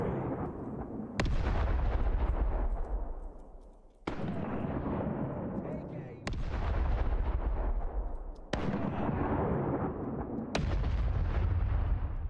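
Ship cannons fire in a naval video game, five loud booming volleys spaced a couple of seconds apart, each with a sharp attack and a long rumbling decay.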